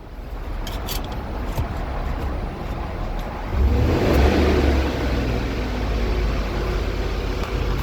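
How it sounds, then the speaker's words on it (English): A hot Toyota Sequoia engine with MEK mixed into its hot oil idles close by, then its revs climb and hold at a louder, rougher pitch for the rest of the stretch. "I'm going to pump the RPMs up a little bit."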